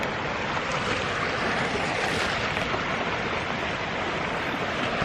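A forest creek rushes steadily beside a log crossing on a wooded trail, a dense continuous wash of flowing water close by with no pauses and no voices.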